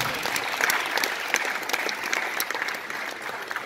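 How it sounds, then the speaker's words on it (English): An event crowd gives a sustained round of applause for police officers at a comedy show in Nigeria, with many overlapping claps and no talking. "let's applaud them one more time"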